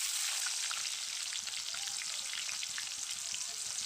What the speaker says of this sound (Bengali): ভাজা হয়ে গেছে ফোড়নটা, এখন পেঁয়াজ দিয়ে দিচ্ছি